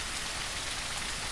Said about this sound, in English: the rain is incredibly loud